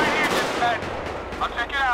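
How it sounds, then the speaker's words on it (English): Gunfire in GTA V with the LSPDFR police mod, a dense run of loud rapid shots and cracks filling the short stretch, with faint voices mixed in. "We got major shots fired."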